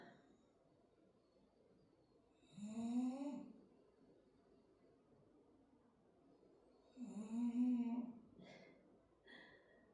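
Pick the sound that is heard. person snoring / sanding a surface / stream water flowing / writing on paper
person snoring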